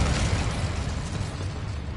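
Fire spell Incendio cast in Hogwarts Legacy, a dense, loud roaring burst of flame that fills the whole clip without letting up.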